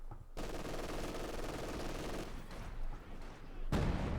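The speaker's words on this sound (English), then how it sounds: "Treadz here going for the B4 howitzer. He decides he wants something a bit bigger in the artillery department" Artillery and gunfire in the real-time strategy game Company of Heroes 2, with a B4 howitzer among the guns: dense, continuous loud rattling fire and heavy blasts, ending in a sharp close boom.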